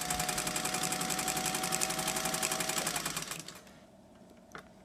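A Singer 201 sewing machine runs steadily for about three seconds with a dense, rapid stitching rhythm, then stops, leaving quiet with a small click near the end.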